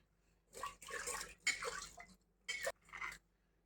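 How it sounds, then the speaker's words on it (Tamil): Hands are washed under running water, a few quiet bursts of splashing and rubbing with short pauses between them, close by and fairly soft. "அடுத்து கை ஹேண்ட் வாஷ் பண்ணிடணும்"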